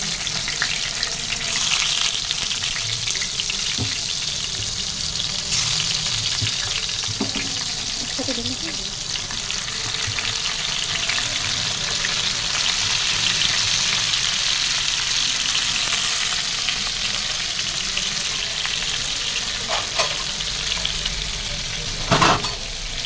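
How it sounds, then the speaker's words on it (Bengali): Eggplant slices frying in a pan, a continuous hiss and sizzle holding steady throughout with occasional small clinks and pops. "আগে বেগুনের চাকটা ভাজি করি।"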